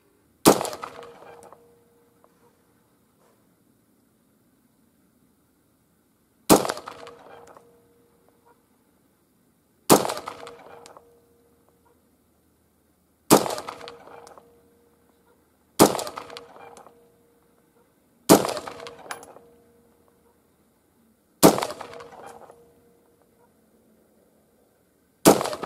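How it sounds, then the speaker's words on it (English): AR-15 rifle with an unmagnified optic fired from a sitting position: eight sharp, loud single shots spaced several seconds apart, each with a short decaying echo and near-silence between. "try shooting the basic AR-15 with the unmagnified optic from something like a sitting position"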